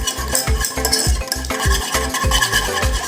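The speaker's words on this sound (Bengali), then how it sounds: "সুন্দর করে একদম যে মশলাগুলো আমি দিলাম এটার সঙ্গে একদম মিশিয়ে নিতে হবে" Two eggs are beaten with spices, including turmeric, in a bowl, and a utensil strikes the sides in a fast, regular rhythm of loud, close clacks and scrapes with no talk.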